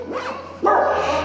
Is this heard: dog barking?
yes